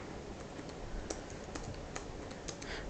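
Quick clicky typing on a computer keyboard, irregular key taps close up and fairly quiet, no voices.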